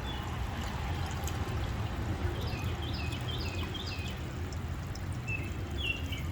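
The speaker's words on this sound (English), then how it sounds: "Look at the water trickling down." Water trickling down in an early-morning wooded spot along a parkway, a soft continuous wash under a low rumble, with scattered faint birdsong chirps threading through.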